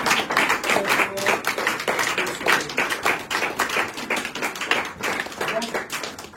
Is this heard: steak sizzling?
no